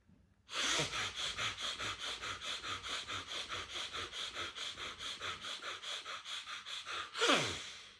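Rapid rhythmic breathing exercise using the diaphragm, a steady train of forceful, evenly paced exhalations close to the microphone for about seven seconds, ending with one long, deep intake of breath.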